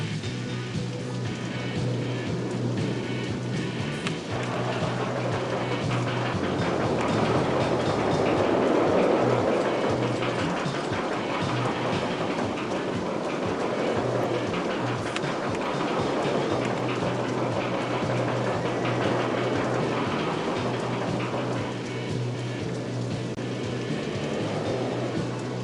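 Roller coaster trains running in the video game OpenRCT2, including a lay-down coaster, produce a continuous rattling rumble with rhythmic clatter that swells and recedes over a steady ambient game hum.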